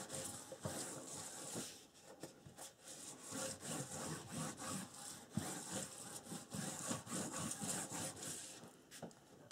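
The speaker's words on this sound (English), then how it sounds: "the smooth rounded side of your bone folder, burnish down in that fold so that the cardstock goes down into the score tape that's in between" A bone folder burnishing scored cardstock along a fold for a wedding album, giving steady close rubbing and scraping strokes that repeat continuously at low volume.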